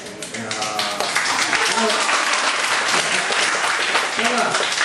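A church congregation applauds at an evening worship service, the clapping dense and sustained throughout, with voices calling out over it.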